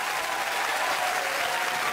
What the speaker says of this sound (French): Je demande d'applaudir Raymond DeVos.